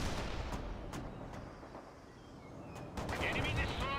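Machine gun fire in the World in Conflict video game, a dense continuous rattle of rapid bursts with heavy booming battle noise underneath, steady and loud throughout, with voices faintly mixed in.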